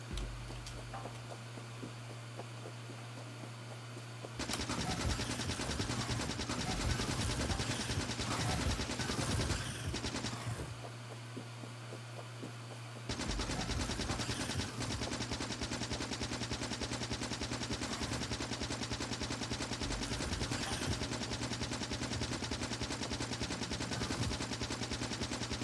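Rapid bursts of gunfire from the basic shotgun in Factorio, fired at swarming bugs, blast repeatedly in dense, loud volleys that stop briefly and resume, with a low steady hum running beneath.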